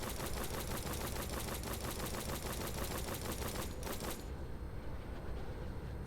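Defense turrets fire in the game Dyson Sphere Program, a dense, loud, rapid rattle of automatic shots that stops abruptly just after four seconds, leaving a quieter tail.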